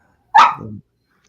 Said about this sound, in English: Let's see who got the little doggy dog over there.